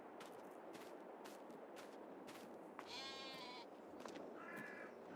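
Sheep bleating in Farming Simulator 22 on the Elm Creek map: two short bleats, one around the middle and a fainter one near the end, over a steady hiss of farm ambience and sharp clicks.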